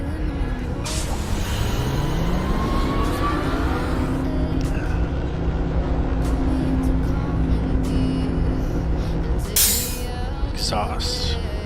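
Retro video game vehicle exhaust cue from a 30-year-old game, a steady droning engine rumble with rising and falling tonal sweeps, loud and continuous throughout, with a brief burst of hiss near the end.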